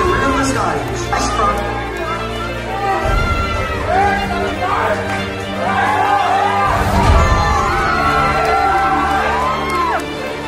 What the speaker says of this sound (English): Today, ladies and gentlemen, let's give them a big cheer